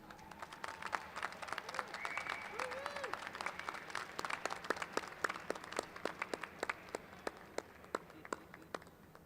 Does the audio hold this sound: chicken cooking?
no